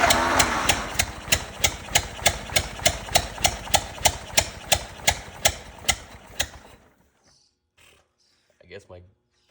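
A 104-year-old Ford Model T engine running after a valve job: a steady, loud, close chugging idle with evenly spaced thumps for about seven seconds, then it stops, leaving quiet with a few faint knocks.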